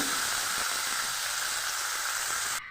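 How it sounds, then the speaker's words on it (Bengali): Dried fish sizzles loudly and steadily as it fries in a pan, a close, continuous hiss that cuts off abruptly near the end. "মাছটা আমি ভেজে নিব"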